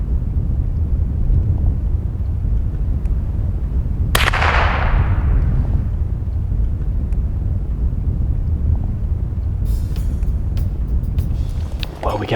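A single loud gunshot fired at a deer during a public-land hunt cracks out suddenly and rings off into a decaying outdoor echo, with steady wind and field noise and low voices around it.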